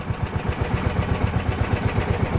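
A boat engine runs steadily with a regular low chugging pulse, loud and close, with no voices over it.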